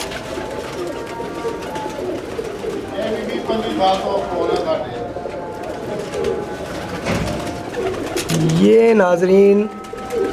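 Kake breed pigeons, young females, coo and murmur steadily in a loft, with someone speaking over them and a louder burst of calls toward the end.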